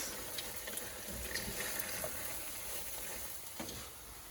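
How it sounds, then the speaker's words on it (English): Rice fries and browns in a pot with a soft, steady sizzle, faint and close, broken now and then by small crackles and pops. "we're going to continue browning the rice"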